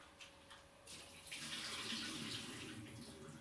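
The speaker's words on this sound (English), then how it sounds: "And then I dump out that water" Rinse water from washing sea moss is poured out into a kitchen sink, a loud, steady splashing gush that swells and keeps running for a few seconds.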